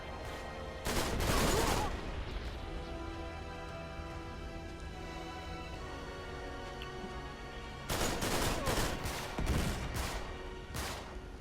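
Weapon fire in the Uncharted 3 game: two sharp bursts of rapid gunshots, one early and one later, each loud and close, with quieter game ambience and tonal music in between.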